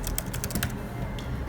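Soft-keyed typing on a Logitech Slim Folio Pro keyboard case for iPad Pro, a quick run of close, light clicks early on, then quieter steady background with one more faint tap.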